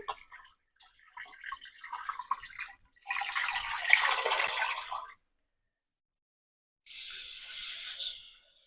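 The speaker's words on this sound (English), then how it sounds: "Now I'm going to fill it to the max with water." Tap water gushes into a large cooking pot being filled to the brim for broth, arriving in bursts with gaps between them and a final steady pour after a pause.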